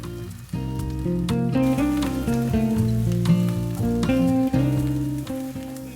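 Daikon and green onion being sautéed in a pan, with a soft sizzle under steady, fairly prominent tonal background music.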